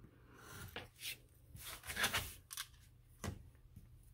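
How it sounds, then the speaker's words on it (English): Scissors snip through paper corners at an angle in a craft kit assembly, a few short, close, quiet cuts and rustles spaced irregularly with small pauses between them. "So I'll cut my corners at an angle using that dotted line as my guide."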